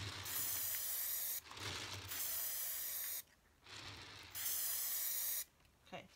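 Aerosol can of Glitter Blast spray paint sprayed onto a spray-painted tumbler in three long, steady hissing bursts, close and loud, with short pauses between.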